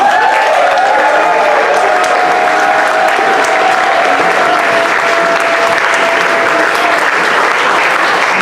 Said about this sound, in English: As you stamp your feet, clap your hands and give it up for Nathan Willcock!